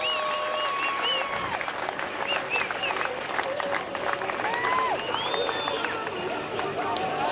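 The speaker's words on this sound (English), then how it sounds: "The crowd wishing him well." Outdoor motocross crowd at Red Bud applauding as an injured rider is carried off the track on a backboard, steady clapping mixed with whistles and murmuring voices.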